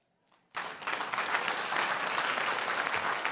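A town hall audience breaks into applause with a sudden onset after a brief quiet moment, then holds a loud, dense, sustained wash of clapping to the end.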